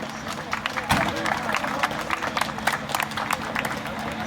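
An audience applauds to welcome a juror at a Polish event, scattered clapping under a hubbub of voices and speech, moderately distant and uneven.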